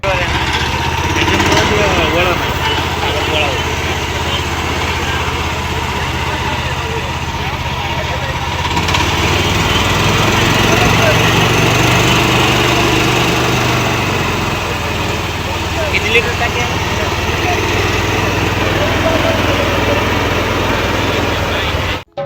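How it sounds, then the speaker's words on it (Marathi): A farm machine engine runs steadily at a loud, constant drone at an agricultural fair, close to the listener, with voices talking faintly underneath. "इंजिन स्टार्ट करतात हे काका"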